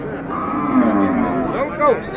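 A red cow moos at a cattle and buffalo market in Khon Kaen, Thailand, in one long drawn-out low call close by, with market noise and faint voices around it.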